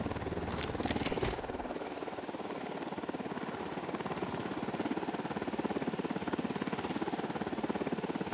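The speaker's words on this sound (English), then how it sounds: "Got a chopper." A helicopter in Ghost Recon Wildlands thrums with a continuous rapid rotor chop and engine drone, steady and fairly loud, after a brief burst of noise at the start.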